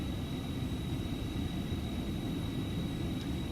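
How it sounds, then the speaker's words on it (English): An Aerobask light airplane in a flight simulator game passes by in a steady whooshing engine drone with a thin high whine on top, even in loudness and with no speech. "The flyby sounds in this airplane are pretty spot on."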